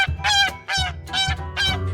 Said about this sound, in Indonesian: Soang bahasa Inggrisnya goose.